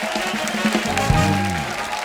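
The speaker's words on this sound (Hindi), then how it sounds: "एक बार जोरदार तालियां हो जाए हमारे मेहमानों के लिए।" Studio audience on The Kapil Sharma Show applauding the guests, a steady wash of clapping that continues for a couple of seconds under a faint voice, with a sustained musical tone rising partway through.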